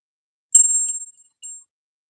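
A small bell, like a bicycle bell, rings out clearly twice in a quiet room, a bright sustained ding followed by a shorter second ring.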